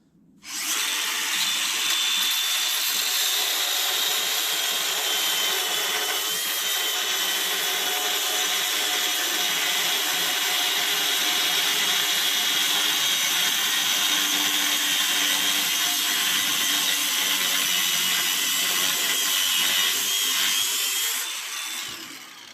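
A Dewalt DCG405FN cordless angle grinder spinning at 9000 rpm cuts steadily through material, producing a loud, continuous abrasive whine and grind that holds for about twenty seconds with no pauses and no voices.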